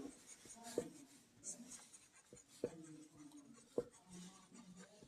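Chalk or pen writing during a math lesson on probability makes soft scratching strokes with a few sharper taps, faint and intermittent under a voice speaking Hindi.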